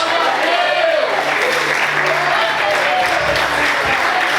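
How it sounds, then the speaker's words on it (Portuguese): A church congregation claps and applauds in a dense, steady wash of noise, with voices mixed in beneath the clapping. "Você pode aplaudir o Senhor essa manhã?"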